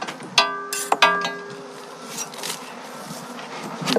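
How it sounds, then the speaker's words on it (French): Honeybees hum around a hive tray as it is cleaned of dead bees, a busy buzz with a few sharp scraping and knocking sounds near the start, then a steadier swarm drone. "C'est des abeilles qui n'ont pas pu évacuer ici."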